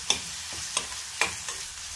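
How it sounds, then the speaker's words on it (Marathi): Onion and tomato frying in a pan, stirred with a few sharp spoon scrapes at a slow pace over a soft, steady sizzle, close and fairly quiet. "टोमॅटो आणि कांदा मऊ होईपर्यंत आपण हे चांगलं हलवून घेऊया."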